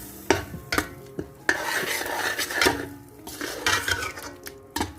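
Rice and masala are turned over in a pot for beef pulao with tomatoes, a spoon clanking and scraping against the metal in repeated close strokes over a light sizzle; no one speaks.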